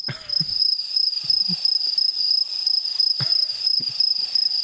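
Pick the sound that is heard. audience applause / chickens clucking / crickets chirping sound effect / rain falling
crickets chirping sound effect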